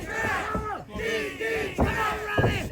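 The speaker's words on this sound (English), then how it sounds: "A bit of a smaller crowd this week, but listen how loud they're getting." A smaller live wrestling crowd at an independent show roars and shouts together in loud, surging waves of chanting and cheering, filling the hall with rising bursts throughout.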